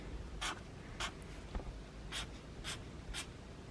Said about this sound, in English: color with Sharpie